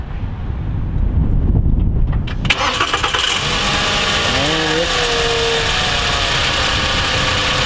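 A 2007 Volkswagen Jetta engine cranks and catches after a tensioner pulley replacement, then settles into a steady idle, close and loud, with wind noise across the microphone.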